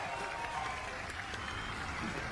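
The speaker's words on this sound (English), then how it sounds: "Seems like they're clapping out of fear." A crowd claps in a House of the Dragon scene, a faint, distant wash of applause that stays steady and continuous under a noisy, hissy background throughout.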